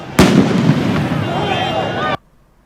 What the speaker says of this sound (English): Are those fireworks?